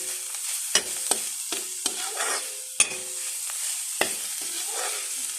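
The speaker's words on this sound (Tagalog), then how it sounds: "Ganito ko magluto ng itlog eh. Scramble to siya, guys." Eggs scrambled in a frying pan: a steady sizzle runs throughout, broken by sharp scrapes and taps of a utensil against the pan at irregular intervals, close and fairly loud, with no talking.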